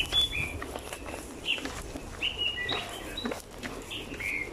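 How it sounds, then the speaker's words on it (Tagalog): Birds chirp and call in short, scattered high notes along a hiking trail in Hong Kong, fairly faint against a soft outdoor hiss. "Birds chirping."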